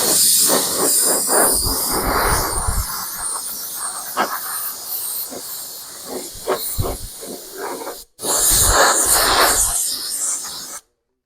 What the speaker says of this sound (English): The clear coat sprays just like any other paint.